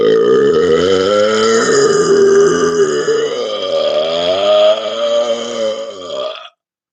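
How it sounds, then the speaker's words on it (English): A single very long, loud, deep burp, forced up from an air-filled stomach, rumbles and wavers in pitch for over six seconds before stopping abruptly, close to the mic. "One of the few times my burps are tasteless because I haven't eaten anything in a while."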